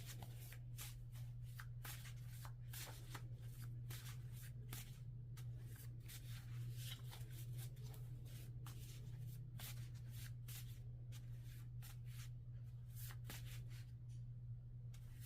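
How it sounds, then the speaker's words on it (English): Affirmation cards shuffled continuously by hand, rapid close riffling and flicking bursts over a steady low mains hum, quiet and without any speech. "I'm gonna pull an affirmation card for you all"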